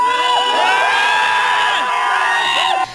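Indian soldiers at a mountain border outpost cheer and whoop loudly together, a dense crowd of overlapping shouts and high rising cries held for several seconds before cutting off abruptly.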